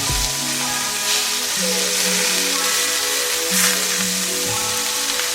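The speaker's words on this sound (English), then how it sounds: "I'm going to go ahead and flip my steak over" Steak marinated for fajitas sizzles steadily in a hot pan as it is flipped over, a continuous close frying hiss with a brief louder surge of spitting midway.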